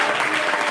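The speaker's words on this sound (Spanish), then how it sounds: "Dele ese aplauso a Jesús." Brief burst of dense, loud applause from a church congregation during a worship service, continuous clapping with no pauses.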